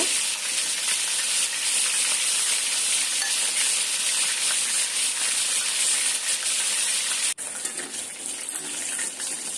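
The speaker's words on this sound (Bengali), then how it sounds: "কড়াইয়ে তেল দিয়ে দিয়েছি এখন আমি মাংসের পিসগুলো ভেজে নেব" Meat pieces fry in hot oil in a wok, giving a loud, steady sizzle that crackles without pause throughout, broken only by a brief dip near the end.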